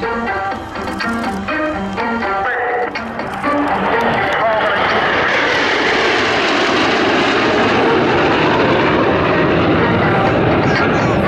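An aircraft flies at the RAF Cosford Air Show, its engine roar building into a loud, sustained wash of noise that swells as it passes close by, with a voice talking under it at the start.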